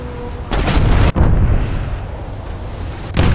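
Heavy gunfire hitting a boss's secondary turret in a video game, loud booming bursts with abrupt starts and cut-offs, a rumbling explosion tail between them, and another blast at the end.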